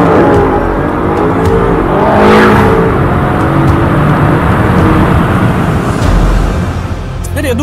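A BMW M5 F90 CS accelerates hard, its engine roaring loudly and continuously with rising pitch, dense rumble and wind noise, as if recorded from inside the car, with a voice faintly mixed in.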